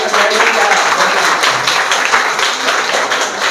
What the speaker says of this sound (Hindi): एक बार ताली बजाना चाहिए